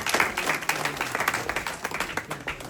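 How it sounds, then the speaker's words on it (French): Audience applause at a 50th birthday celebration, many hands clapping in a dense, steady patter that holds for a few seconds at moderate loudness. "fille du très regretté papa Maurice Mwiti, que je voudrais que vous applaudissiez très fort s'il vous plaît."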